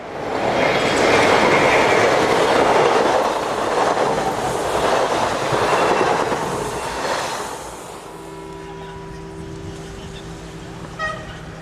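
A pair of early-1970s train units on an empty stock working pass close by with loud rushing and clattering wheels, then fade, leaving a faint hum and a few distant squeaks.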